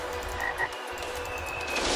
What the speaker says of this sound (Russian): Там лягушка где-то прыгает.